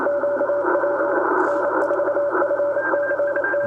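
Many Morse code radio signals crowd together through a wide receiver filter, with one clear keyed tone over a dense hiss of overlapping signals and static, loud and continuous.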